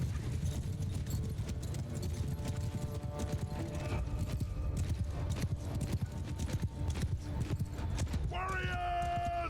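In the video game Mount & Blade II: Bannerlord, cavalry horses gallop in a charge, producing a dense, continuous clatter of hooves with occasional whinnies over battle noise and background music, while a player talks.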